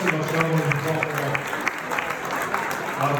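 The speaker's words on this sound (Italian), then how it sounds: "Un applauso alla Cenagox" Audience at a charity gala for the Venice fire brigade applauding steadily and fairly loudly throughout, with crowd murmur and some voices beneath the clapping.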